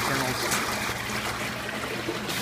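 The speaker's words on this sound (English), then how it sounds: "You can see now the high flow pump running for the next cycle and preparing for the next cycle." A high flow pump in an automated agitated immersion parts washer churns and flushes water through the wash tank. The sound is a steady, close trickling rush that stays constant throughout, with a voice speaking over it.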